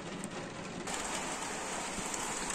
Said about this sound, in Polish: teraz też wciąż nieźle leje